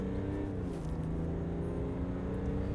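A 2020 GMC Sierra Duramax diesel pickup in rear-wheel drive pulling away hard from a standstill, its engine droning steadily and loudly with rising harmonic whine as it gathers speed.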